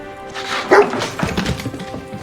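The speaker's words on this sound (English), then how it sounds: "the dog's gonna be Cooper's companion, that's perfect" A dog barks in a scene from the TV series Fallout: a couple of short, fairly loud yelps over a busy soundtrack background, with no talk.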